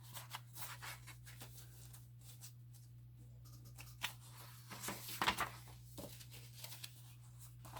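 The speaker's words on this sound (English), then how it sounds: "Let's shuffle, shall we?" Sheets of paper rustle and slide softly in quiet, irregular bursts while being shuffled and sorted, with a steady low hum underneath.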